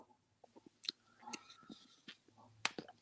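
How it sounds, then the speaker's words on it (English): Close, wet chomping of spearmint chewing gum, with irregular smacking bites and a few sharper clicks and crunches, heard alone without talk. "chews gum so we can hear him chomp"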